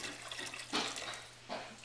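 Hot water from a kettle pours over beef in a stew pot, a steady splashing gush with a few louder surges, close and moderately quiet, with no voices over it.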